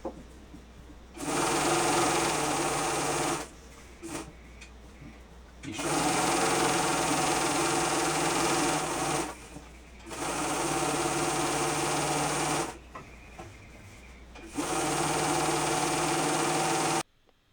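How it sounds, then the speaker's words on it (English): A sewing machine stitches black rayon fabric for a witch costume skirt, running in four sustained bursts of steady mechanical whirring separated by short pauses, close and loud. "And here I am sewing them together."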